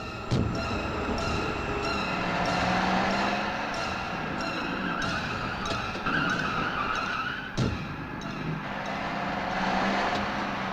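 A car chase plays as a film sound effect: engines roar and tyres skid and squeal through several hard turns, loud and close, with sharp impacts punctuating the continuous driving noise.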